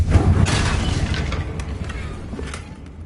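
A Confringo fire spell blasts off in Hogwarts Legacy on PS5, a booming burst at the start followed by crackling, fizzing debris that fades over about three seconds.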